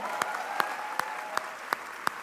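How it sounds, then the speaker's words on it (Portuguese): Clapping at a church conference gathering, heard as six evenly spaced, distinct claps in a slow, steady beat, fairly faint over a quiet hall. "Vamos dar um aplauso a Jesus nessa tarde"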